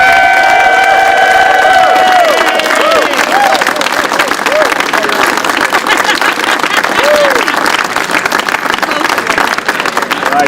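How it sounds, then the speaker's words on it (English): A crowd at a New York City political endorsement event breaks into loud, sustained applause with scattered cheers and shouts. "Let's give her a round of applause."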